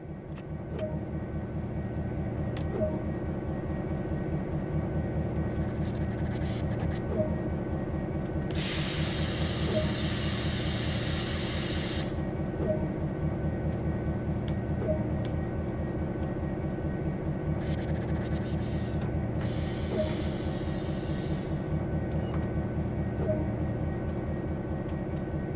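MP15DC diesel locomotive in Train Sim World 2020, its engine idling or running as a steady, loud low rumble throughout, with two bursts of hissing air partway through.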